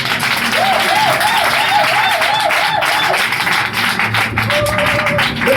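A church congregation applauds for Jesus at a thanksgiving service, with steady, dense clapping throughout and musical tones and voices mixed in beneath it.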